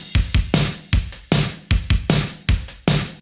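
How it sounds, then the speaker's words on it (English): A full 80s-style drum mix built on a Linndrum kit in Addictive Drums, with a punchy kick and snare hits in a steady, tight pattern, close and loud with no voices. "So the drums all together sound like this."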